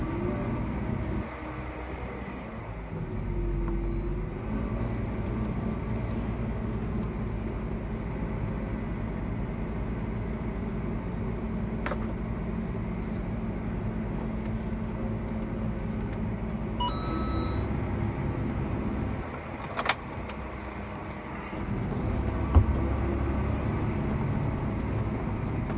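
From inside the cab, a farm vehicle at work in a rapeseed harvest drives off with a steady low engine drone. There are occasional clicks, a short electronic beep partway through, and no talk.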